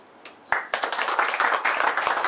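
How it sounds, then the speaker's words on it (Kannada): An audience at a Kannada Rajyotsava celebration breaking into applause, a brief burst of many hands clapping that swells quickly and holds steady. "ನೀವು ಚಪ್ಪಾಳೆ ಹೊಡೆದ್ಬಿಟ್ರಿ"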